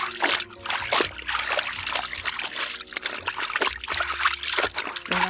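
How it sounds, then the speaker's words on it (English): Bed sheets rinsed by hand in a basin of water, with repeated trickles, splashes and sloshing close by in an irregular rhythm. "And now I just start rinsing."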